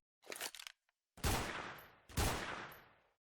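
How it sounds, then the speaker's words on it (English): Gunfire in the zombie shooter Tumtara: a quick burst of two rapid shots, then two louder, separate booming shots that ring out and fade, with no voices. "I should just shoot this thing over there."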